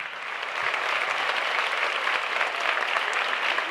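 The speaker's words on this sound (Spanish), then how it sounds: "brindamos un fuerte aplauso" Audience applause at an Argentine government launch event, a steady, dense clapping from a large crowd that swells after a soft start and holds evenly throughout.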